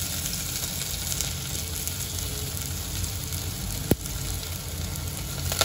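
Mustard seeds, cumin and crushed ginger-garlic sizzle steadily in hot oil over a medium flame, a close, even crackling hiss with one sharp pop partway through.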